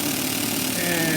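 A small Toyan Sand Cruiser model engine runs steadily in reverse, a constant buzzing drone close by with no break.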